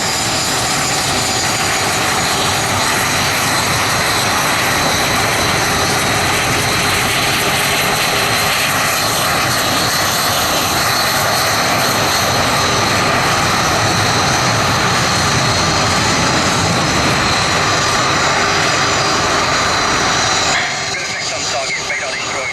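Military attack helicopter flying at an air show, a loud continuous roar of rotors and engine holding steady for twenty seconds before easing slightly, while a commentator talks over it.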